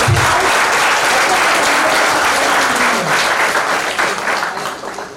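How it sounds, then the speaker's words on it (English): A loud, dense round of applause from an audience at an MIT bioengineering event, steady and sustained for several seconds before gradually thinning out near the end. "So round of applause for somebody."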